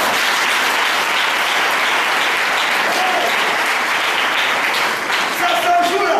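A church congregation applauds and cheers continuously, a dense, even wash of clapping that fills the space throughout.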